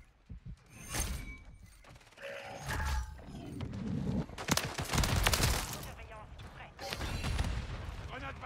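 Repeated grenade blasts and bursts of gunfire in a multiplayer shooter game, loud and close, coming in quick clusters, with players talking over the chaos.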